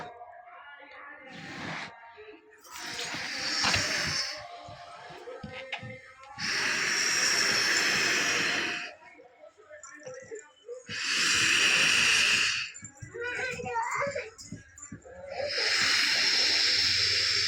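A young girl blows air into a balloon in several long, breathy, hissing puffs, close to the ear, with short pauses between them where an adult voice can be heard encouraging her.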